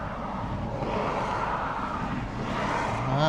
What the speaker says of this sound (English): Oh, more traffic.